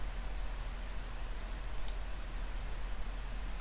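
A single short computer mouse click sounds faintly once over a quiet, hissy background.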